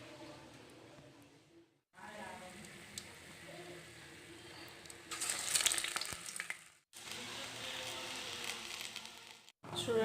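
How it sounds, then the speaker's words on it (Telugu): Vada batter, shaped into rounds with a hole in the middle, sizzles and bubbles in hot oil, a soft steady frying hiss that swells and fades between brief quiet gaps. "రౌండ్ చేసి మధ్యలో హోల్ వేసి దీన్ని నూనెలో వేసుకోండి."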